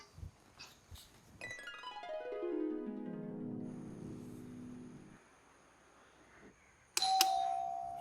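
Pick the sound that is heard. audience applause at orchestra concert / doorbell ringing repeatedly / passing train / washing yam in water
doorbell ringing repeatedly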